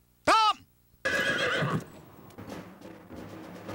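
A horse gives one loud, close neigh with a rising then falling whinny, followed after a short pause by someone talking with other noise behind him.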